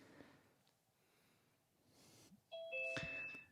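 A doorbell-style ding-dong chime signalling someone joining a call, sounding once as two bright tones near the end after a quiet stretch of faint room noise.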